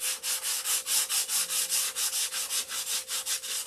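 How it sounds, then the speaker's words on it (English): Rhythmic back-and-forth rasping of sandpaper on wood, about fifteen even strokes, close and steady with no talking. "Sand, sand, and resand."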